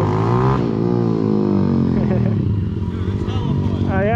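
Ultra 250x pit bike engine revving hard on a mountain ride, a loud, close, sustained rising and falling roar that runs alongside talking.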